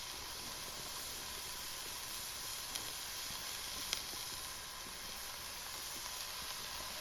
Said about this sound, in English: That sizzle is just something else.